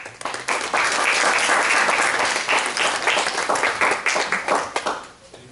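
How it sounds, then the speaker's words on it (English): Loud, sustained applause from the audience at a school board meeting, a dense wash of many clapping hands that holds steady before thinning and fading out near the end. "they deserve our applause"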